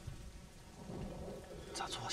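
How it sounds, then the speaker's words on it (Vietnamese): Thunder rolls through a heavy storm with steady rain underneath, a low rumble that swells in the middle, with a few crackling bursts near the end. "Sấm này đúng là to thật"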